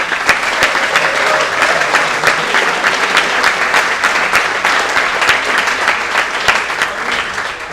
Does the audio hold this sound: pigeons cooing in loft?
no